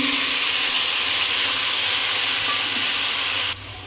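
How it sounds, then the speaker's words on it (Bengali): Steady loud sizzle and hiss as soaked mustard paste, mixed with salt and turmeric, goes into frying green tomato and potato in a pan, continuous throughout and dropping off sharply at the end. "এবার আমি এখানে সরষের গুঁড়োটাকে একটু উষ্ণ গরম জলে নুন হলুদ দিয়ে ভিজিয়ে রেখেছিলাম, সেটাকে এখন দিয়ে দিচ্ছি"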